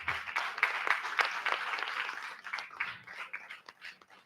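An audience at a debate competition claps for the debaters, a dense patter of many hands that gradually thins out and fades toward the end.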